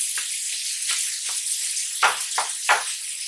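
Sausage sizzles and fries in a skillet, a steady bright hiss punctuated by several louder crackling bursts as the meat is stirred and broken up.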